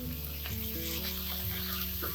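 Steady, loud sizzling and crackling of a large quantity of spinach frying in a hot pan, with a few soft stirring knocks and no talking.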